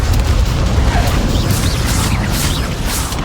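Blasting explosions from the Confringo spell in Hogwarts Legacy, a loud, dense, continuous roar of booms and crackling bursts that fills the whole stretch without a break.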